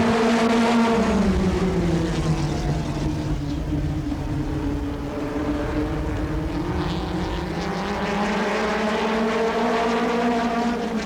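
USAC National Midget race cars roaring around a Kansas City track during an 8-lap heat, a loud, continuous layered engine drone whose pitch rises and falls as the cars pass, no talking.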